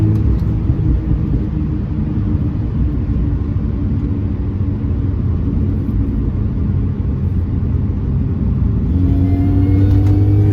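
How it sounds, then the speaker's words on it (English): A supercharged car engine revs in a low, steady rumble close by, building toward a rising whine near the end, with no voices over it. "Listen to that supercharger."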